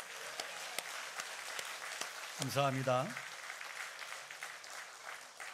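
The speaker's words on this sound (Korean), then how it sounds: "우리 좋으신 하나님, 살아계신 하나님께 감사와 영광의 박수 올려드리겠습니다" A church congregation applauds during a completion thanksgiving service for a newly built sanctuary: a steady, fairly soft wash of clapping that runs throughout, with someone briefly speaking thanks over it midway.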